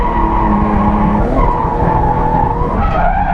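A rental drift car slides through a drift in third gear, its engine droning steadily under continuous loud tire skid and squeal that carries through the whole stretch with no voices.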